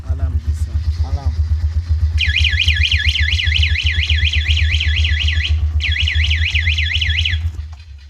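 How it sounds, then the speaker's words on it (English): A motorbike's alarm system wails in a rapid rising-and-falling electronic siren over a steady idling engine rumble, cutting out briefly before resuming, then stopping; voices are faint early on. "It has an alarm system."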